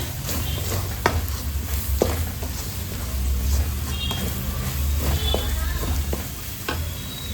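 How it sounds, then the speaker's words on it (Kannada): Spice masala fries in oil for chicken liver fry, a continuous close crackling sizzle with occasional sharp clicks of a spatula stirring against the pan. "ಸ್ವಲ್ಪ ಒಂದು ನಿಮಿಷ ಈ ಮಸಾಲೆ ಎಲ್ಲ ಎಣ್ಣೆಯಲ್ಲಿ ಫ್ರೈ ಆಗಲಿ"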